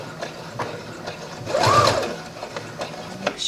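A sewing machine runs in reverse as it stitches down a patch pocket with a flap, a steady close mechanical whirring hum that swells briefly mid-stretch, with no talk.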